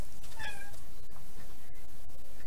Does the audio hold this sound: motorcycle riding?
no